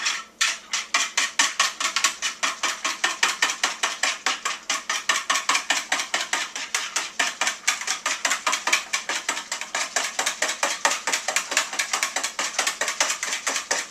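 Homemade ice cream base being mixed vigorously in a bowl, a rapid, relentless rhythm of whisk or spoon strokes clattering against the sides for about fourteen seconds, close and bright, with no talking.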